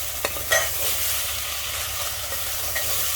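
Masala with turmeric and cumin powder fries in a pan for a Sindhi-style mutton dish, a steady close sizzle broken by a few scraping stirs of the spoon near the start and end, with no talking.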